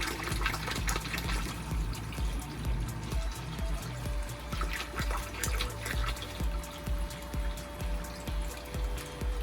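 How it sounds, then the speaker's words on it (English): Concentrated nutrient solution is poured into a hydroponic flood table, giving a steady, close splashing and trickling of liquid that carries on without a break and sits alone with no voices. "now that I've got my concentrated nutrient solution, we'll just add that in to our table."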